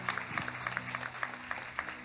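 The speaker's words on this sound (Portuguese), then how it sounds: "Dá uma salva de palmas para eles." A Baptist church congregation applauding, a brief run of scattered claps over a low sustained tone, moderately quiet.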